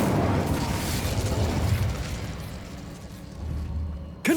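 An Incendio fire spell in Hogwarts Legacy erupts with a loud whooshing, crackling burst that fades into a low rumble, ending with a short sharp pop.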